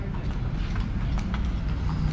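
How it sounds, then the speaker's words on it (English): Horse hooves clip-clop steadily on pavement in a busy historic walled district of Manila, a continuous close rhythm over low outdoor rumble, with no talking. "And there are also obviously some horses in here."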